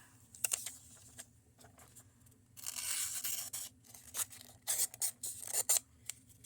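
A used Civivi Odium folding knife slicing through a sheet of paper, giving a few short crisp cutting and tearing strokes with scraping bursts, close and fairly quiet.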